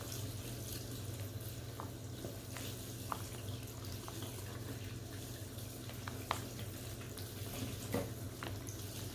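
Water runs steadily from a tap over locs, soaking the hair before washing, a constant close hiss with faint splashes and no talking.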